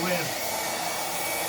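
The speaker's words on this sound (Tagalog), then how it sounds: "Galing matuyo siya pag binublower." A handheld blower, like a hair dryer, runs steadily at close range, a loud continuous whooshing whir that holds even throughout with no talk.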